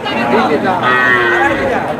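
A dairy cow with her calf at a rural cattle market in Naogaon, Bangladesh, gives a loud, close, drawn-out moo lasting about two seconds, with a crowd murmuring in the background.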